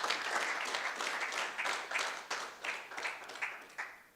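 Applause from an audience at a Nigerian maritime stakeholders' forum, honoring the Nigerian Navy: a steady wash of many hands clapping, moderately close, with individual claps surging and fading over a few seconds.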